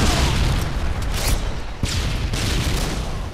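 Heavy booming blasts from a predator missile strike in the video game Call of Duty Modern Warfare 2, several loud explosive bursts with rumbling tails layered over continuous battle noise.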